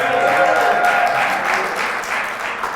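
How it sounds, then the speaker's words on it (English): Loud audience applause fills a library hall during an author talk: a dense, sustained wash of clapping from many hands, fading slightly toward the end. "Y'all ain't got to clap for everything."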